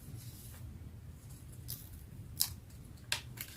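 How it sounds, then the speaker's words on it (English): Scissors snip out small paper stars in a quiet room, a few faint sliding cuts followed by two sharp, distinct clicks of the blades closing near the end. "I don't have that really fine, sharp, small tipped scissors, so I think these will manage."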